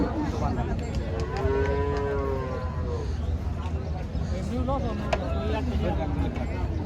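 Cattle lowing amid the bustle of a crowded livestock market in Rajshahi, a few drawn-out moos rising over constant crowd noise and voices talking nearby.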